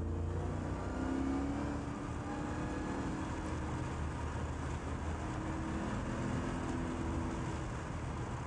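A Mercedes SLR McLaren Roadster's engine drones steadily and fairly quietly, a low, even rumble of a car under way without sharp revving peaks.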